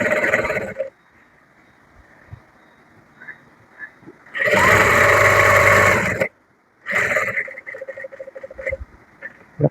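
A sewing machine stitches along the edge of a nighty's fabric in two loud, fast bursts, each lasting a couple of seconds, with quiet pauses and faint handling noises in between.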